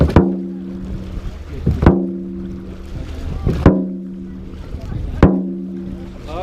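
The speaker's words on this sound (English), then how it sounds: "Okay, forward paddling" A crew paddles a racing boat through open water in unison, giving four heavy, evenly spaced strokes with splashes and a brief ringing knock against the hull. Wind and water fill the gaps between strokes.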